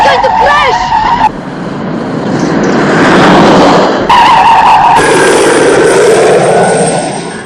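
Car tyres skidding as the vehicle swerves out of control before a crash, a loud, sustained screech with roaring engine noise, shifting in pitch across the scene, with brief voices at the start.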